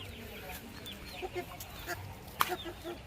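Parrot-beak chickens on a free-range farm cluck softly in short, scattered calls against a low outdoor background, with one sharper squawk standing out near the end.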